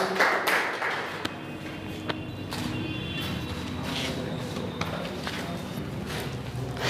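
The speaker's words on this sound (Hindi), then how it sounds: "तालियों के साथ स्वागत करता हूं" An audience at a school results celebration for Class 10 and 12th Arts students claps in welcome, a steady patter of many hands filling the hall with a few sharper claps standing out.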